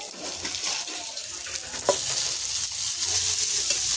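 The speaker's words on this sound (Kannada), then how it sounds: "ನಾವಿಷ್ಟು ಕರಿತೀವಿ, ಫ್ರೈ ಮಾಡ್ತೀವಿ" Fish frying in a pan gives a steady, close hiss of sizzling oil, with a light scrape or stir and a soft clink partway through, and no voices.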